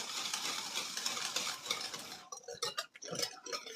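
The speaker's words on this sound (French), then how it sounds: "Et alors, on va brasser tout ça." A whisk beats egg, milk, vanilla and cream in a bowl as the filling for a blackcurrant tart. First comes dense, fast continuous scraping, then it breaks into a quicker series of separate clicking strokes.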